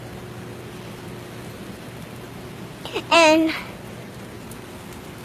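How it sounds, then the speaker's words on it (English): Steady rain falls throughout as a constant broadband hiss, with a brief spoken word and a short high-pitched voice or squeak rising above it near the middle. "And look, it's raining."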